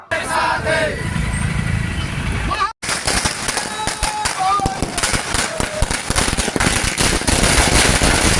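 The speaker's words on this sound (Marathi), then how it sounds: "कार्यकर्त्यांनी फटाके फोडत जल्लोष साजरा केला" A rapid string of firecrackers bursting outside a Shiv Sena office in Buldhana, dense sharp pops crackling one after another, preceded by a noisy outdoor crowd of celebrating party workers.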